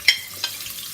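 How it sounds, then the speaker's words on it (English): Oil sizzling in a pan, with a sharp crackle at the start and a second pop shortly after, then a steady soft hiss. "hear that sizzle"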